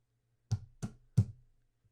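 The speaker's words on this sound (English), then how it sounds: "I'm just gonna hit my desk and that's gonna be the gavel slamming noise" A hand slams flat on a desk three times, standing in for a gavel: sharp, close, fairly loud thuds in quick succession with a short pause before the third, over a faint low hum.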